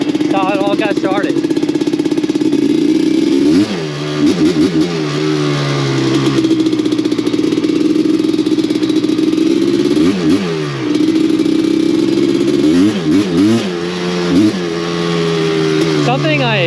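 A vintage Suzuki LT250R two-stroke sport quad revs close by and loud. The engine blips and rises in repeated bursts, swooping up and falling back toward idle several times.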